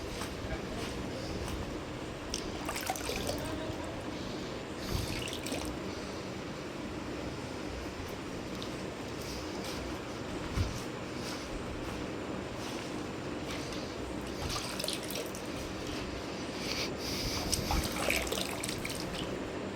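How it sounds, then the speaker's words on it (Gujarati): Water gushes from an automatic float valve into a cattle and buffalo drinking trough on a village farm, a steady, moderately loud splashing and trickling that runs without pause. "આ રીતે ડોલ આપણે ખાલી કરીએ એટલે આગળ આપણે વાલ અહીંયા ઓટોમેટિક ચાલુ થઈ ગયો"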